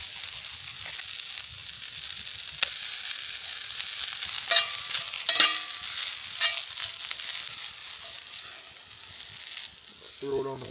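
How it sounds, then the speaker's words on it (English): Broccoli fries over a campfire outdoors in the snow, giving a soft crackling sizzle with a few clatters of a utensil stirring, and a voice speaks briefly near the end. "I'm gonna season up this broccoli."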